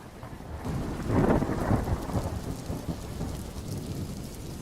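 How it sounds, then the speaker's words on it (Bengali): Thunder rumbles through steady rain in a storm after hot weather, a low roll swelling loud near the start and easing into a continuous wash of rainfall, with no voices. "কড়া গরমের পর এই ঝড় বৃষ্টির গুমোট ভ্যাপসা গরমে"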